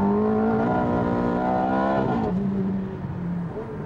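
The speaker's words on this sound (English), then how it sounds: "The best bit about this new 430 is the engine." A Ferrari F430 engine screams as it accelerates hard, loud and close, its rising tone climbing steadily before dropping with a gear change and building again.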